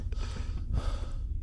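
Heavy breathing in the horror video game The Mimic, a close, loud run of gasping breaths and sighs.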